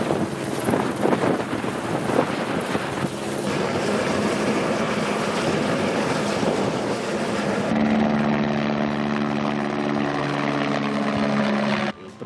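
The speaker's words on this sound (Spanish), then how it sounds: "Aquí viene a cargar el helicóptero, se lleva 2 alpacas de 380 kilos en cada viaje." A helicopter hauling two 380-kilogram straw bales per trip, its rotor and engine a loud, steady broadband drone throughout, with a brief drop in level at the very end.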